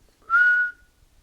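A person whistles one short, clear, steady note lasting under half a second in a quiet room.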